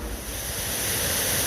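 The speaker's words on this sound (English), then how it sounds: "I've got this bridge and I've got that beautiful waterfall right there." Mountain waterfall beside a bridge, a broad, steady roar of rushing water that grows slightly louder, heard alone with no voices.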